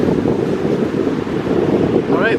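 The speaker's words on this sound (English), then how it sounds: "It's rather windy" Strong wind at a beach buffets the microphone in a steady, loud roar, with surf blending into the rumble throughout.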